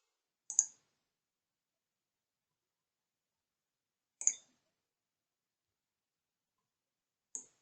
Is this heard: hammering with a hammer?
no